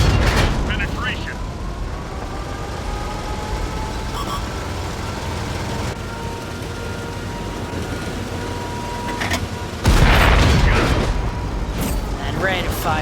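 Tank destroyer cannon in the World of Tanks video game firing amid a steady rumbling engine bed, with a sharp heavy blast near the start and another loud boom later, over continuous background battle noise.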